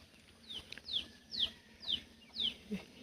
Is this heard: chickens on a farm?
yes